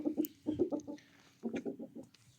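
Adult chickens, the parents of young chicks, cluck nearby in two quick bursts of short rhythmic clucks separated by a brief pause, with no talking.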